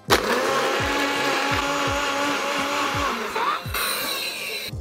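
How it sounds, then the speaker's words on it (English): A blender motor whirs steadily and loudly, with chunky rhythmic knocks of pineapple and ice being chopped in short repeated pulses for a piña colada, ending in a higher-pitched spin. "Make sure you have a good quality blender and just pulse it."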